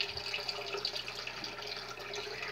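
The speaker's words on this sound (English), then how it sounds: "pour that in the water" Water poured into a betta fish tank, a steady close splashing trickle running unbroken from start to finish with no voices.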